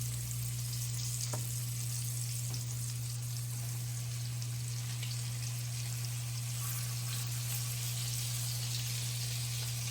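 Flounder fillets frying in an oven-safe pan with garlic lemon butter, a steady soft sizzle and crackle continuing close and alone throughout.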